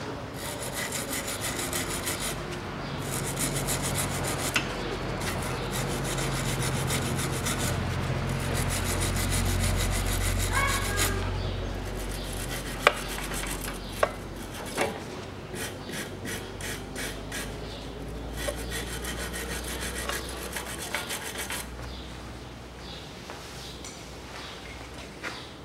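Upper ball joint being unscrewed on a Land Rover Discovery 4 during front air-spring work, with long stretches of rasping, ratcheting tool strokes, occasional metallic clicks and knocks, close up and without talk.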